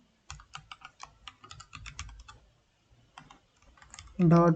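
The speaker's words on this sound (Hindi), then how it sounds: "तो यहाँ पे मैं अपना ईमेल आईडी लिखा" Rapid keystrokes on a computer keyboard while an email address is entered on a Flutter chat app login screen, clicking in quick bursts with short pauses, close and fairly quiet, with no talk over it.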